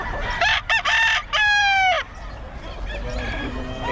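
A two-year-old Pumpkin Sweater gamecock rooster crows loud and close in two quick bursts, with fainter clucking and calls trailing after.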